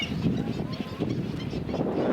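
Honking geese calling in the distance over steady wind noise outdoors, their cries faint and mixed with the rustle of the breeze.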